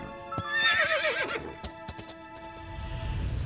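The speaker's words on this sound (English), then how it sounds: "Thanks, Ghost Horse. Thanks, filly." A brumby filly whinnies loudly in snow, a long wavering neigh, followed by a few hoof clops and a soft low rumble at the end.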